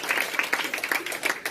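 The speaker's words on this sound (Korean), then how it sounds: "박수 감사합니다" Applause from an audience at a Korean network-marketing gathering, a dense run of overlapping claps that carries steadily and at moderate loudness across the short stretch.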